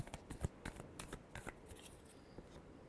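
A deck of tarot cards being shuffled by hand: a quick run of soft, riffling flicks and slaps, close and quiet, fading out after about two seconds, with no speech.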